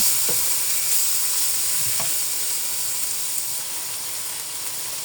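Crumbled tofu and ground meat fry in a pan with onion, garlic and salted fish, giving a steady close sizzle and hiss, with a couple of soft stirring scrapes early on and no talking.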